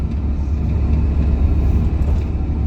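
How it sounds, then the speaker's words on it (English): A long-distance express coach at night on the road from Canberra to Sydney, overtaking a long truck; a steady, loud low engine and road rumble drones continuously with no speech. "a long truck with a red light."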